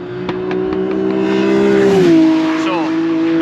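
An engine-swapped 400bhp Ford Fiesta track car drives past on a circuit during warm-up, its loud steady engine note rising as it nears, then dropping in pitch as it passes and pulls away.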